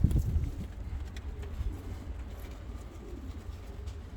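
Yellow and red Volski pigeons cooing close by, a low soft rolling coo with some handling noise at the start, quiet and fairly steady.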